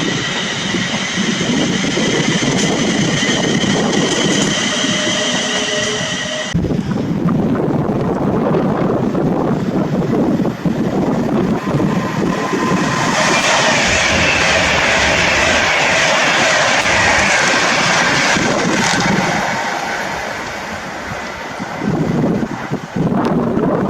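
A London Northwestern train at Rugeley Trent Valley station gives a loud, sustained rumble with a steady mechanical roar and high whine, shifting partway through and easing toward the end, with no voices.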